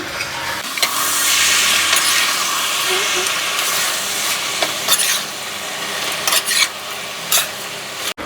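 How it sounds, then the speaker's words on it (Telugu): Chicken with tomato and onion being stirred and mixed in a hot pan, a steady close sizzle and hiss with scraping stir strokes and occasional sharper clinks of the spoon against the pan. "ఇప్పుడు చికెన్ అంతా ఒకసారి మిక్స్ చేసుకుందాం"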